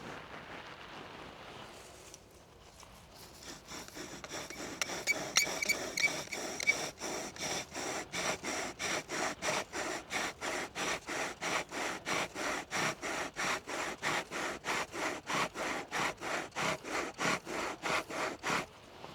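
A bow drill spins a hardwood beechwood spindle against a fireboard, giving a steady run of rhythmic back-and-forth rasping strokes after a short quiet start, close and continuous with no talking.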